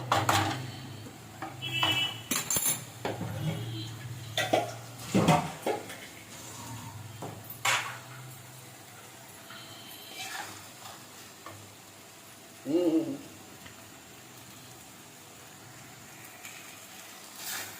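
A banana flower and coconut curry is stirred in a pan, with intermittent scraping and clanks of a utensil against metal between quieter stretches of faint sizzling, close and with no talk.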